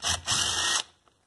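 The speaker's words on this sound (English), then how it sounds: "luckily I have my impact DeWalt drill and it comes right off." A DeWalt impact drill removing the nut from a McCulloch Eager Beaver chainsaw, two close, loud bursts of whirring and hammering, a brief one then a longer one, before it stops into quiet.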